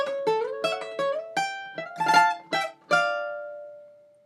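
Lead guitar phrase from an Ecuadorian song, played alone as a run of about eight bright plucked notes climbing and shifting on the upper strings, the last note ringing out and fading.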